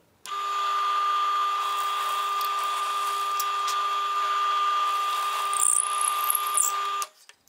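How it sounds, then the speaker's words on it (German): A high-pitched power drill bores holes in wood, whining steadily for about seven seconds, close and loud, with a brief squealing rise near the end before it stops. "Und wir wollen ziemlich genau hier und hier bohren"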